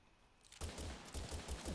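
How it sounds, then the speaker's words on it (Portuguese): Gunshots fired at a car in Totally Accurate Battlegrounds: a quick burst of several loud, close cracks in rapid succession following a short quiet moment. "Só eu vou disparar contra o carro para ver se ele morre."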